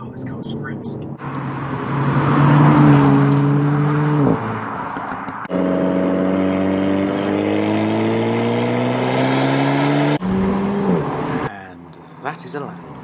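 A 2021 Renault Megane RS 300 engine revs hard around a track lap, climbing through the gears with loud rising pitch, brief drops at each shift, with someone talking over the cabin noise.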